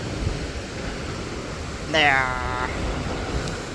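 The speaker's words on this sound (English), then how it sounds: "just beautiful crashing ocean and a steep descent down" Steep rural coastline of South Africa's Wild Coast between Ntafufu and Poenskop, with ocean waves crashing below: a steady, broad wash of surf fills the clip while a voice speaks briefly partway through.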